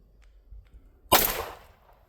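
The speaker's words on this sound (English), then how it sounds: "we're gonna shoot it with both 3-inch barrels" A single loud 9mm or .45 ACP pistol shot fired at a car door from a 3-inch barrel, a sharp, close crack with a short decay after a brief quiet lead-in.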